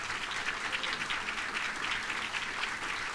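Warm, steady applause from a gathered crowd celebrating a retiree, even and continuous with no voices standing out, heard at moderate distance.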